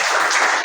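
Students in a classroom clap for a classmate's finished work, a brief burst of dense, close clapping with no talk.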